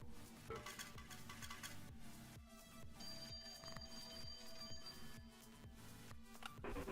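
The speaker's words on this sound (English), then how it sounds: "Evil phone call, ignore." A phone rings in the video game Cloverpit, a steady electronic bell tone repeating over busy game music and clinking effects, with no talk.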